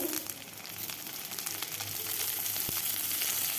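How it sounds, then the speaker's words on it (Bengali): Cut potatoes frying in hot oil in a pan for a Bengali fish curry with ridge gourd, a steady close sizzle running throughout with a brief clink near the end. "আলুটাকে বেশ কিছুক্ষণ সময় ভেজে নেব"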